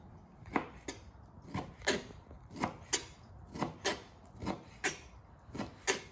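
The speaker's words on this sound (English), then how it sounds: "I like them sashimi, so do the family. So we'll do that. Slice them off like that." A knife slices fish fillets into sashimi on a board, about a dozen crisp, evenly spaced cutting strokes close by in a quiet kitchen, with no talk.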